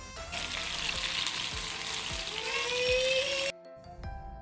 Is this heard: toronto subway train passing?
no